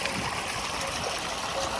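Water flows in a small rural stream used for scooping fish, a steady, soft, close rushing and trickling with no talk over it.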